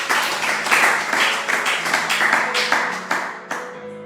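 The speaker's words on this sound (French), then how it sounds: "Acclamons très fort ça" A church congregation at a worship service claps and cheers loudly together, with dense, sustained applause and scattered sharp claps that start to thin out toward the end.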